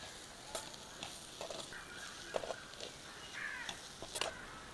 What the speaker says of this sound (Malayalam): ഇതിലേക്ക് ഒരു തക്കാളി അരിഞ്ഞത് ചേർത്ത് വഴറ്റാം.